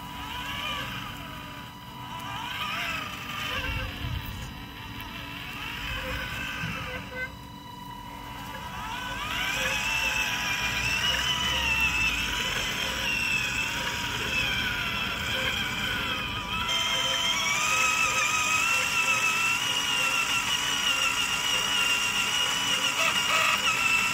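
A homemade electric bike motor whines as it accelerates, a steady mechanical hum that rises in pitch and grows louder, heard up close with no talking.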